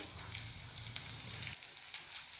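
Finely chopped onion fries in oil with ginger and garlic for a dal, a soft steady sizzle with faint crackles, quiet and close, easing slightly toward the end.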